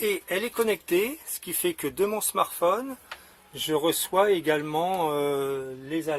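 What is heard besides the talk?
No everyday noises stand out.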